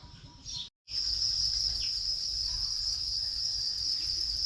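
Copper crickets on a cricket farm chirp in a steady, bright, continuous trill. The sound is close and loud, with a brief dropout near the start and a low rumble underneath.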